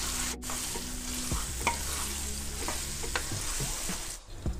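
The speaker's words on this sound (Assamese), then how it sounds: "পিটিকি লোৱা জলফাইখিনি এতিয়া তেলত দি দিম" Boiled, mashed jolphai olives fry in mustard oil for a pickle, stirred with a spoon; a continuous close sizzle with scraping strokes against the pan and no voices.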